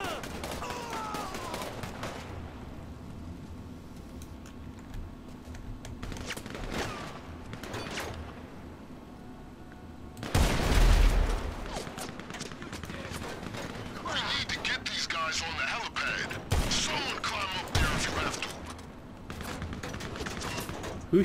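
Gunfire in GTA5 Online comes as scattered shots and a heavy burst midway, close and loud, with people talking throughout.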